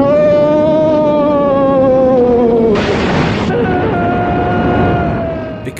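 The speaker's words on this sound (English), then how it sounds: "even blows up the top of the mountain above the cave" An explosion blows apart the top of a mountain above a cave in a Doctor Who story, a short burst of noisy blast that cuts through a swelling orchestral score with sustained tones and stays mixed under the music.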